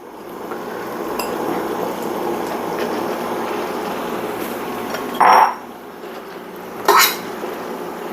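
Noodles dropped into a hot pan with butter or oil for crispy garlic chicken, giving two brief loud sizzling bursts over a steady low background of cooking noise.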